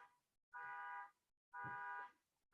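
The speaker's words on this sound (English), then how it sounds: "Car alarm, great." A car alarm outside sounds in regular pulses, three bursts of a harsh buzzing tone about a second apart, faint and distant.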